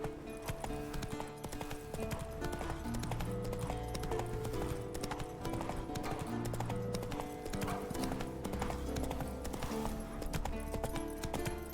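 A horse in The Witcher 3 trots along with steady, rhythmic hoof clip-clop and a brief whinny, heard beneath game music and ambience.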